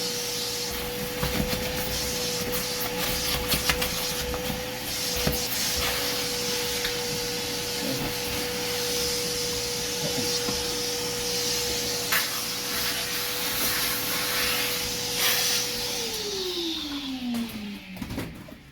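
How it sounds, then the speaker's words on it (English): A vacuum cleaner runs during a haircut, a steady close whining drone with a sustained tone that holds, then drops in pitch as the motor winds down at the end, with faint rustling and bumps around it. "We're vacuuming."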